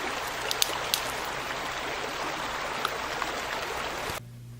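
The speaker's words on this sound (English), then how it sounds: "So this is the little creek we're fishing, Rock Creek." Rock Creek, a small mountain creek, flows in a steady, soft rushing wash with a few faint splashes, then cuts off near the end.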